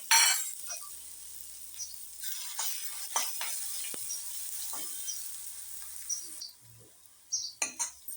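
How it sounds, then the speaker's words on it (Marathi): Crushed cumin and chili frying in a pan, a close hiss of sizzling oil with intermittent scraping and light clinks of a spatula, fading quieter then returning with a few stirring knocks at the end. "जिरं मिरची टाकून चांगलं परतवून घेऊया"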